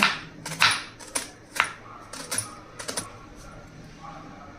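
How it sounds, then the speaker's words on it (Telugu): A knife taps sharply on a cutting board in a quick irregular series of chops through onions, close and clear, fading out near the end. "ఆనియన్ కట్ చేసుకుందాం మరి"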